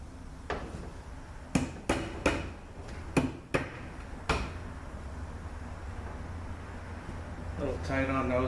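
Tapping a glued, previously cracked A6MF2 transmission bellhousing onto tight dowels, about half a dozen sharp, close knocks spread unevenly over several seconds against a steady room hiss, with a voice briefly starting at the end.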